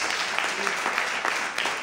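A church congregation at an evening service applauds in a dense, continuous wash of clapping, with voices mixed in throughout.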